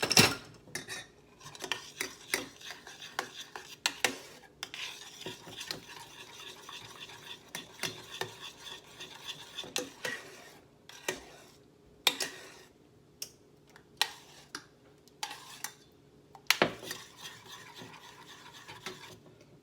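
A spoon stirs melted butter sauce for vegan buffalo cauliflower, seasoned with ground mustard, in a pot. It gives repeated close scraping and clinking strokes in an uneven rhythm, with no talking.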